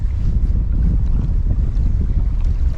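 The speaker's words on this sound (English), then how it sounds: "it's pretty windy, so you probably didn't hear me" Steady wind buffets the microphone with a loud, low rumbling roar while wade fishing in the bay at Arroyo City, South Texas, continuous throughout with no voices.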